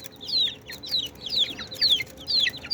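Young chicks about seventeen days old, one white and one red, peep in a run of high, thin, descending chirps. The calls are repeated at a steady pace, close by, with a soft rustling ambience and no talk.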